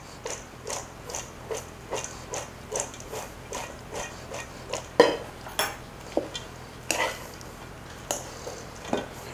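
Raw cauliflower salad with anchovies and garlic tossed gently in a bowl, producing a steady series of soft, regularly spaced clinks and light rustles, close by, with a couple of sharper knocks partway through and no talking.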